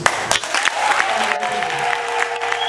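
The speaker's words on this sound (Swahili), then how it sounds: "Na makofi unanipigia mimi" A church congregation applauding during a sermon: a sustained burst of crowd clapping that holds steady throughout, with faint tonal sounds underneath.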